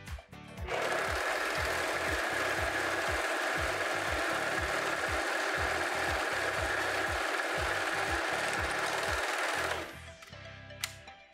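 Sun Special SS-320 domestic overlock machine sewing a test seam, a loud rapid whirring chatter running steadily for about nine seconds before stopping, with faint clicks after.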